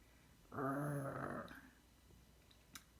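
A low, rumbling voiced growl held for about a second, a person imitating a growl up close, followed by quiet.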